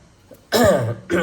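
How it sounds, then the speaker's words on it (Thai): A man still recovering from sinusitis clears his throat twice, with one rough, raspy burst followed quickly by a second shorter one, close and loud in a quiet room. "ขออภัยที่กระแอมบ่อยนะครับ"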